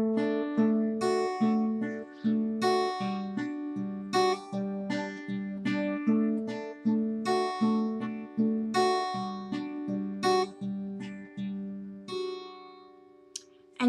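A clean-toned guitar plays a repeating plucked riff with pinky hammer-ons, notes coming in quick, rhythmic clusters with ringing sustain, steady and close, with no voices.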